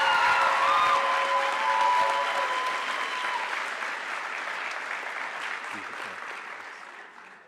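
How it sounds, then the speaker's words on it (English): Audience applause at a high school honors night for Franklin Key recipients, full and even at first, then gradually fading away over several seconds. "one more round of applause for this year's Franklin Key recipients"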